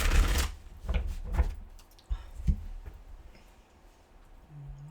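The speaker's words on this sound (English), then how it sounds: "I'm going to give it a couple more shuffles." Tarot cards being shuffled by hand, a few quick riffling bursts near the start followed by softer taps and shuffles, close and fairly quiet with no talking.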